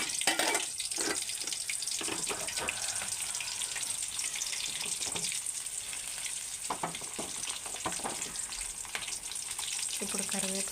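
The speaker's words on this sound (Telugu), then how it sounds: "నూనె వేసాక ఆవాలు, జీలకర్ర, పచ్చెనగపప్పు అవి కూడా వేసుకుంటున్నాను." Onions, mustard seeds, cumin and chana dal sizzle steadily in hot oil for a South Indian tempering, a close, continuous frying hiss with occasional crackles and stirring clinks throughout.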